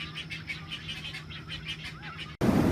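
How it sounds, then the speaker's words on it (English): Many birds squawk and chatter from nests high in trees in Minnesota, a dense mix of rhythmic calls at moderate distance. A loud burst of noise cuts in at the very end. "And you can hear all these birds squawking."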